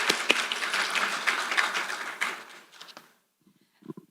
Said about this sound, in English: Please join me in welcoming our chairs with a round of applause.